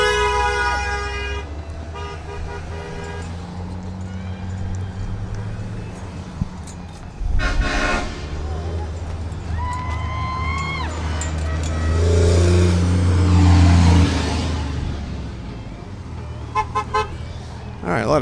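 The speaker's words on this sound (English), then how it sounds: "a lot of beeps and horns" Car horns toot repeatedly as vehicles roll past in a Blue Line Ride parade honoring first responders, military and veterans, with Jeeps and classic cars in the procession. Short and long honks come near and far over engine rumble and passing traffic.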